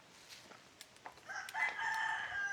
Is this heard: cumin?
no